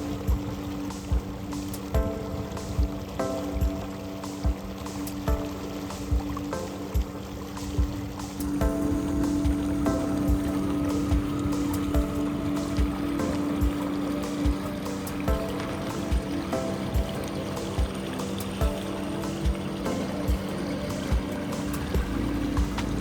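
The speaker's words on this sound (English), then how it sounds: "the Lynx really cuts through the water quite well when you have the engine going at full steam" A Bixpy J2 electric motor drives a Hobie Lynx kayak through open water at full throttle, a steady low hum under constant splashing and rushing water against the hull, with the wash swelling louder partway through and no voices.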